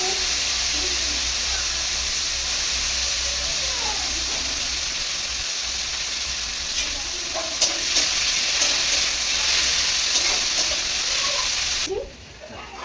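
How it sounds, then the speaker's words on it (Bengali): Onions sizzle in hot oil in a kadai for a curry, a loud, steady hiss that runs close and unbroken for about twelve seconds before dropping away abruptly near the end. "পেঁয়াজটা কড়াই দিলাম"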